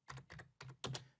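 Typing on a computer keyboard, four quick bursts of close, crisp key clicks in an uneven rhythm, quiet and alone.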